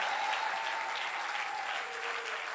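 Church congregation clapping together in acclaim during a French-language sermon, a dense, sustained round of applause from many hands that fills the space evenly and tapers slightly at the end.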